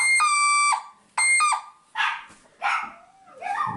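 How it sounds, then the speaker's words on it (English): A Casio DH-100 electronic wind horn blasts two loud, sustained squawking tones, followed by a dog barking three or four times nearby. "the Casio DH-100 wind horn with the squawk"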